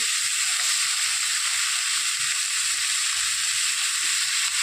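Chopped tomatoes with salt fry lightly in a pan for an Odisha-style eggplant bharta, giving a steady, even hiss throughout with no voices.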